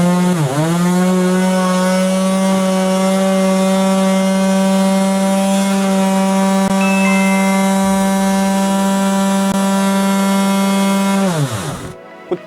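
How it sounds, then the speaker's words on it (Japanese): Electric orbital sander running on wood, a steady tonal motor whine that spins up at the start, holds evenly and loud for about eleven seconds, then winds down and stops. "こっちが今オービタルサンダーをその場に留めてやった状態です"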